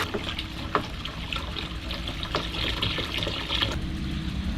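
Liquid pours into a container in a boat's blackwater tank area, a steady close splashing and trickling stream with a few faint knocks, no talk.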